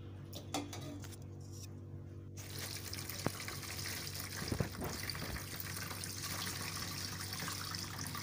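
Hot Zobo drink pouring through a sieve into a bowl, a soft continuous trickle and splash of liquid running throughout, fairly faint and steady.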